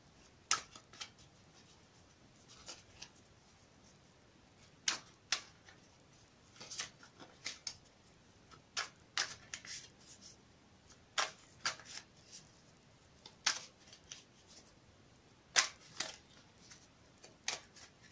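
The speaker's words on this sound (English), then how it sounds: "I've already pre-shuffled the cards, but I will shuffle them again for you on camera" Soft, irregular riffling and tapping of a Radiant Rider-Waite tarot deck being shuffled close by, in scattered quick bursts over a quiet background.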